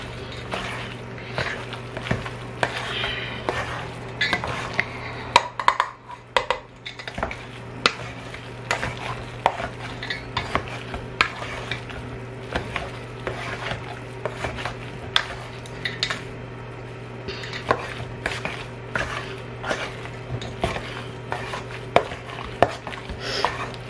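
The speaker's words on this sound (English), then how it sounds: "And I'll mash this bad boy together." Boiled potatoes and steamed cabbage being mashed together in a pot, heard as repeated clanks, scrapes and soft thuds of the masher against the pot over a low steady hum.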